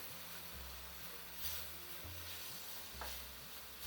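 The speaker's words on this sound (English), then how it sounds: "So keep stirring it till you see all the milk, the coconut absorbs all the milk." Desiccated coconut and milk stirred in a pan over low gas heat, a soft steady sizzle with slow repeated scraping strokes, quiet and close.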